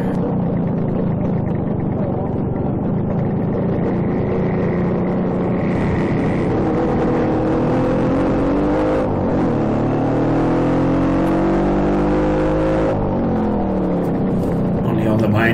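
Rally cars on a main road during the BTSC rally, engines droning loud and close with rising and falling revs through several gear changes, under continuous commentary.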